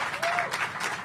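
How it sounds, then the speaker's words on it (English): An audience applauds the mayor of the District of Columbia at the unveiling of new affordable senior housing, a short, lively burst of clapping with some crowd noise mixed in. "So everyone, just a quick round of applause"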